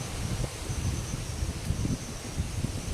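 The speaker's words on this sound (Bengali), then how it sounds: "কালকে রাতে যত জোরে হাওয়া চলেছে তার থেকে মনে হয় সকালবেলা বেশি জোরে হাওয়া চলছে" Steady wind blows outdoors with low rumbling gusts buffeting the microphone and a faint rustle throughout; no voices.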